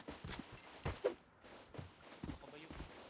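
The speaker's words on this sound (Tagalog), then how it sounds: "Kabayo." Horse hooves clip-clop in the video game Rust, a soft, steady run of thuds at middling distance, with faint voices and game noise around them.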